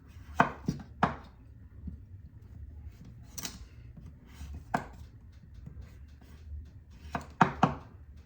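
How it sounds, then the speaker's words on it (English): A knife chops vegetables for Ital stew, pumpkin or butternut squash among them, in a few sharp, close, uneven clusters of thunks on a board separated by quiet pauses. "Cut everything up."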